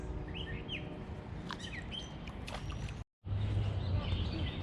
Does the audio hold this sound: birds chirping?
yes